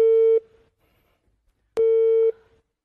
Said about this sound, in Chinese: 行，我现在打电话给王美丽，我开着免提行不行？